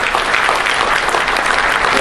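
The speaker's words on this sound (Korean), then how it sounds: "제가 박수 한번 꼭 치고 싶어요" Steady, dense applause from a seated audience at a formal closing address, loud and continuous throughout with no break.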